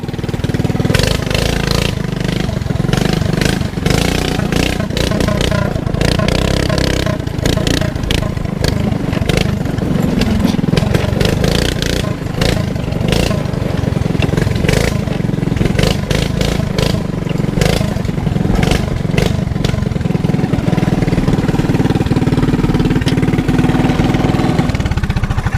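A small-scale model motorcycle engine runs steadily with the throttle pushed, a busy rattling buzz holding loud and close for the whole stretch without any talk.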